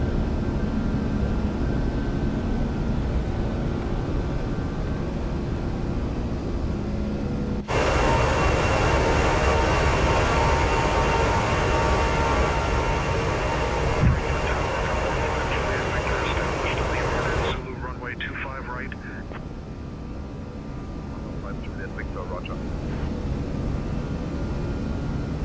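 Lufthansa Airbus A340 jet engines roar steadily through the takeoff climb out of Frankfurt, a loud, dense broadband rush that shifts in intensity and drops slightly near the end.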